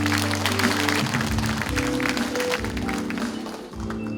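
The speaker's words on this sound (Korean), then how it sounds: "큰 박수 한번" Applause from a forum audience in a hall runs steadily for a few seconds, with low background music or hum underneath and a slight dip near the end.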